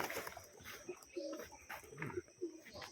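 A male and female pigeon coo nearby in soft, repeated throaty rolls, several short bursts spread across the moment, with faint rustling and chirps around them.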